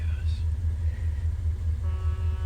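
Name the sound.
car driving along the road by Crescent Lake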